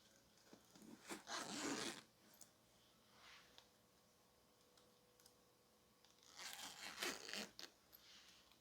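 Quiet fabric rustling and a couple of short zipper rasps on a dress being repaired, with scattered small clicks in between.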